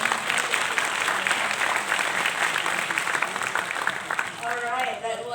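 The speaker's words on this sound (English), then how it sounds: "Please give it a round of applause." Audience applause at a 2024 climate finance summit in Malaysia: dense, sustained clapping throughout, with a voice briefly audible toward the end.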